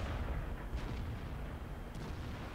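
Tank gunfire in World of Tanks booms as heavy, low, rumbling blasts that blend into a dense, continuous roar of battle, with a couple of sharper reports standing out.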